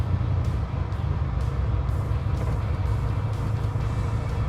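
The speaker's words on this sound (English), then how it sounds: "The car does shake and quiver, and it makes all kinds of noise" A 1964 Chevy Biscayne with a 632 big block and Tremec five-speed pulls out into traffic, its deep, steady engine rumble loud and close throughout with a continuous low roar and no talking.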